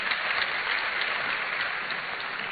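An audience at a university launch event applauds after a speech, with dense, sustained clapping that holds at an even level for the whole stretch.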